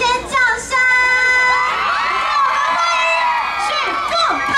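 Crowd at an outdoor carnival concert in a Taipei park screaming and cheering loudly and continuously, shrill high shouts and whoops layered into a dense, close roar.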